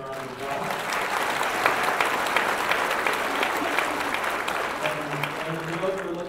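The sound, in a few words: audience applause welcoming the Sweetgrass Girls Circle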